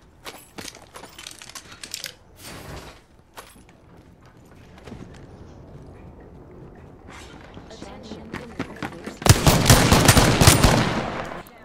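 Rapid gunfire in a first-person shooter video game crackles in bursts, intermittent early and then a loud sustained volley near the end, with talk from players mixed in.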